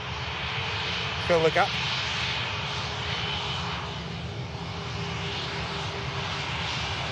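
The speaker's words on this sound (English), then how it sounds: "British Airways A320." A British Airways Airbus A320 arriving in Manchester from London produces a steady engine roar, with a brief spoken phrase cutting in near the start before the drone continues alone.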